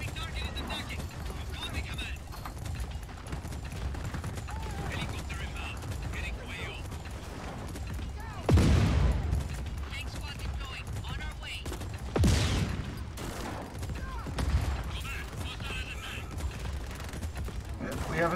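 In Just Cause 4, a tank rumbles along while heavy cannon blasts and rattling gunfire ring out, including two sharp, loud shots amid a busy mechanical din, with voices talking over it.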